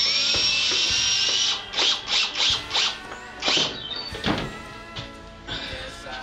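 Screw driven by a power driver into the hardwood tailpiece of a cigar box guitar with a dog bowl resonator: a sustained high whine, then a series of short rhythmic bursts and a few clunks, close and fairly loud with no talk.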